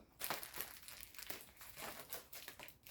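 Crisp crinkling and snipping noises as scissors cut tape off a hobby horse stick, a few sharp cuts against rustling tape, close up and fairly quiet with no talking.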